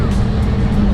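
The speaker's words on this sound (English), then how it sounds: "They're in the back of the truck heading to the beach right now." Truck engine rumbling steadily as it drives toward the beach, a loud close drone with road and wind noise for about a second.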